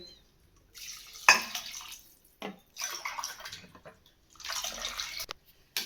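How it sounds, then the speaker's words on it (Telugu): Three glasses of water poured onto soaked rice for vegetable biryani, splashing in separate bursts with short pauses between pours, fairly close and moderately loud. "3 గ్లాసుల వాటర్ పోస్తుందండి"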